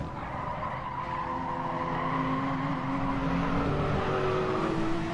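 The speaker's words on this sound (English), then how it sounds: "As a very loud motorbike goes past my house." Loud motorbike passing by outside a house with open windows, a steady broad engine roar swelling over several seconds, layered with racing-game car and tyre sounds.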